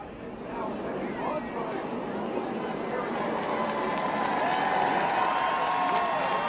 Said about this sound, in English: Crowd seeing Anthony get out of that car